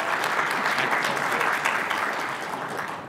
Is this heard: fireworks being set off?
no